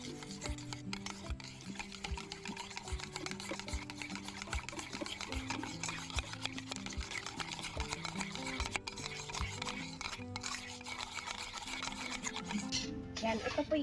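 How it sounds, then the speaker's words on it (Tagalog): Meat stirred in a pan with soy sauce and pepper, making a continuous close scraping, rubbing and sizzling that stays steady throughout, with faint background voices underneath. "Haluin lang po natin."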